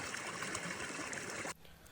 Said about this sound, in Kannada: ಯಾವಾಗ ನೀವು ಟ್ರೆಕ್ಕಿಂಗ್ ಬಂದ್ರೂ ನೀವು ಈ ಥರ ಪೈಪಲ್ಲೇ ಕುಡಿಬೇಕು ನೀರು ಹಿಡ್ಕೊಂಡು